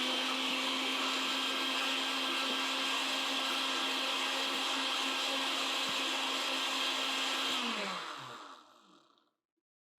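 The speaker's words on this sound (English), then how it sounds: "blend this bad boy up" Countertop blender pulsing aloe vera gel, a loud steady whirring motor with a constant hum that runs for about eight seconds, then winds down and cuts off, leaving near silence.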